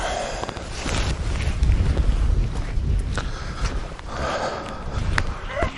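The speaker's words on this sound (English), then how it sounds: "It's a bit windy here. I don't know how much the mic's picking up." Gusty wind buffets the microphone outdoors in the Scottish Highlands, a steady low rumble rising and falling in loudness for several seconds.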